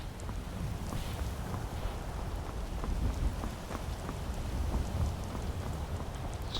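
Rain falling in the video game Skyrim, a steady dense patter of drops with occasional low rumbles, even and unbroken with no voices.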